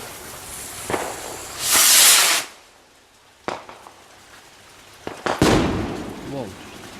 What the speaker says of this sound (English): Stand by for a rocket.